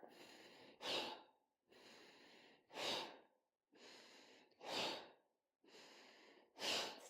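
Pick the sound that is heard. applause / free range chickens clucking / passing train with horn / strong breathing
strong breathing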